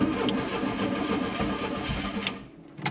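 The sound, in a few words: Volkswagen MK2 Jetta engine cold start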